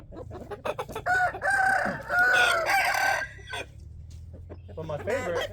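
A 9-pound Thai Qaib Aseel rooster crows loudly and close by, with two long drawn-out calls back to back, followed by softer clucking and rustling.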